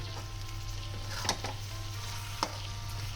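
Snake gourd stir-fried with shrimp in a pan: a steady hiss of frying with a low hum beneath, marked by two sharp clatters of the stirring utensil near one and a quarter and two and a half seconds.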